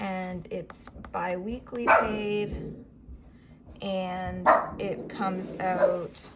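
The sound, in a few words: dog barking in the background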